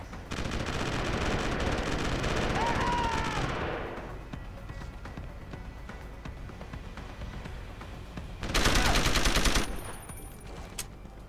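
Sustained automatic gunfire in Deus Ex: Human Revolution roars loud for several seconds, drops to a quieter stretch, then a second heavy burst rips out near the end.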